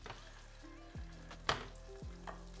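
Butter sizzling in a frying pan while skate wing cooks à la Grenobloise, a steady soft crackle broken by a few sharper clinks and scrapes of utensils against the pan, close by with no talking.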